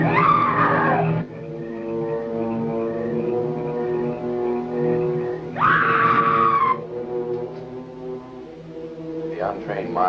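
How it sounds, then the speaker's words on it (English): A ghostly female scream from a black-and-white horror film set near an old bell tower in an ancient cemetery: a long wailing cry with a second sharper burst midway, over an eerie sustained musical drone. "it is the scream of the white ghost"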